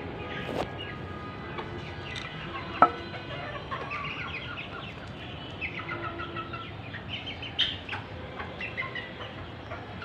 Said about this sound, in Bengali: এই যে মুরগিগুলি আমি দেখাচ্ছি